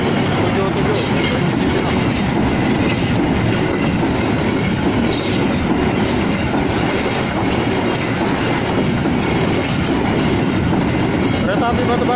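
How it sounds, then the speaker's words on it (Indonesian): A coal freight train rolls past close by on a line near Nambo, Indonesia, wheels clattering continuously over the rails with a loud, steady rumble for the whole stretch. "Kereta api Batubara melintas langsung jalur 1"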